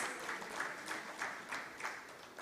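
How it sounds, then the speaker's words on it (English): Applause from an audience at a fintech forum award handover in Pakistan, a moderate, fairly distant patter of clapping with a few swelling waves, no talk over it. "Applause would be really nice."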